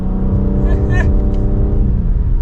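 A 2024 Cadillac CT5-V accelerating, its engine and exhaust holding a steady, dense drone with a brief rising upshift swell partway through, loud and close throughout.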